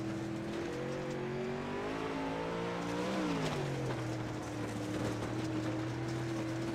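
A dirt track race car engine at Kokomo Speedway drones steadily at close range, its pitch rising and falling as the throttle eases on and off, with no voices.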